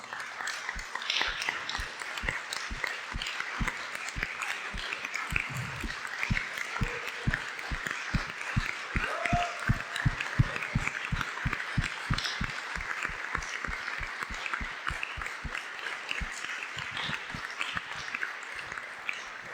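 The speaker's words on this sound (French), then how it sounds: "Peut-être les hommes, on peut juste se lever et juste peut-être les applaudir." Men in a gathering stand and applaud the mothers present: a crowd's sustained applause with a steady, rhythmic beat of claps over a dense wash of hand noise, continuing without a break for about twenty seconds, with no clear talk on top.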